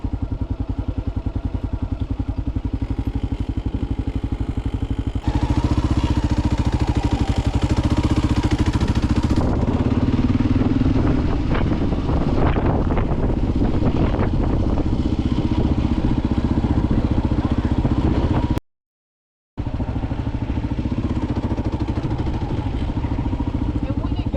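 A Kawasaki KLR motorcycle ridden near a West Texas lake with a faulty clutch perch: a steady engine drone under heavy wind rumble, growing rougher midway, with a brief full dropout near the end.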